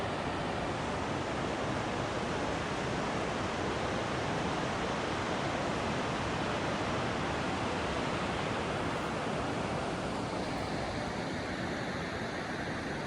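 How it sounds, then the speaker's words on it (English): Roaring meltwater at Exit Glacier, Alaska, a loud, steady broadband rush that holds unbroken and close throughout with no voices. "just listen to the roar of the water"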